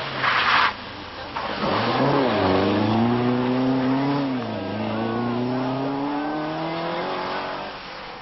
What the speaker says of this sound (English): The Team PR Riley-backed Vauxhall has been under considerable pressure from McRae's Opel, which is now closing fast